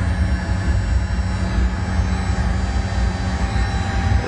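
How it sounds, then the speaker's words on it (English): A Boeing 737 jet engine spins up during start, giving a loud, steady broadband roar with a rising whine and sustained tonal hum throughout, with no voices. "Now it's spinning up the engine."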